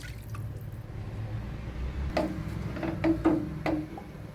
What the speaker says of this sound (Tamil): கொஞ்சமாக தண்ணி சேர்த்துக்கிறோம்.